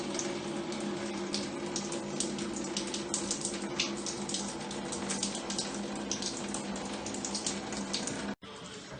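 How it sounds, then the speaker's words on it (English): Water drains down from an upper floor through the shower plumbing of a two-story building, a steady rushing, trickling flow that cuts off abruptly near the end. "sometimes it takes the water from the top to drain down"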